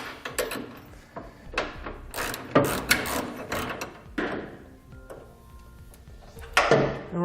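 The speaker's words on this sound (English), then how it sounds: "we'll be using a 3/4-inch socket and wrench to tighten up the 1/2-inch hardware" A ratcheting socket wrench with a 3/4-inch socket tightens 1/2-inch bolts on an underbed gooseneck trailer hitch in a 2018 Chevrolet. It sounds as bursts of close mechanical clicking with short pauses between strokes.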